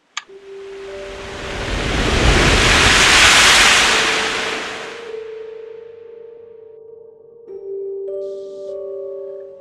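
Ocean waves in the middle of the Atlantic rise into a loud, broad surge and wash that peaks and fades over several seconds. Faint sustained tones and chimes follow it.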